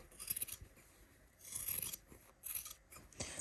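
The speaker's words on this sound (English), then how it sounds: "But I don't want to use my good fabric scissors to trim that zipper." Scissors cut through a zipper on a sewing project in several short bursts of crisp snipping and rasping, close and fairly quiet, separated by brief pauses.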